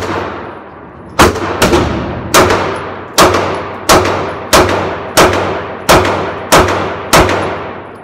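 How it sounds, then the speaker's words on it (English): Eight single shots from a Dan Wesson Valkyrie Commander pistol fired slowly at a test range, each a sharp, loud crack with a ringing tail, spaced evenly less than a second apart. "Eight rounds slow fire worked just fine."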